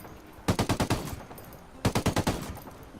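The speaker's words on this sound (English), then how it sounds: "this gun is capable of laying down suppressive fire all the way out to there" A gun laying down suppressive fire in Ghost Recon Wildlands, two loud close bursts of about six rapid shots each, separated by a short pause.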